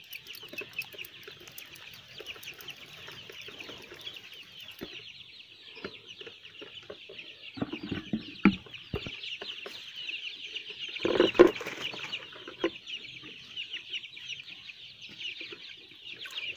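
Chickens cluck on a poultry farm of about 700 birds, a dense, continuous chatter of many hens with occasional louder squawks and brief wing flaps.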